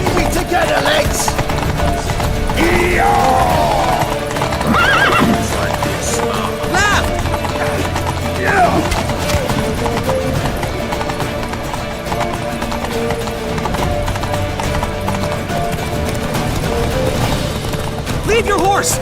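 Horses gallop in a video game, with loud, continuous hoofbeats and occasional neighing, heard with shouting voices and battle noise over the top.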